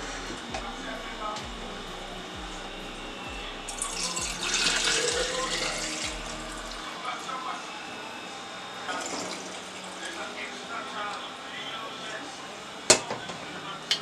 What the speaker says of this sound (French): maintenant je vais verser le contenu dans les bocaux